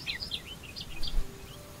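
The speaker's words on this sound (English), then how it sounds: "Just listen to this little golden-headed cisticola sing." A golden-headed cisticola sings in Australian grassland: thin, high chirping notes repeat in short bursts over a steady low background rumble.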